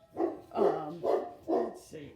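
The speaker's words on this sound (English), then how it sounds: "I apologize for my barking dogs in the background." Several dogs bark in the background in repeated bursts of loud barking at a steady rhythm, with a person speaking briefly over them.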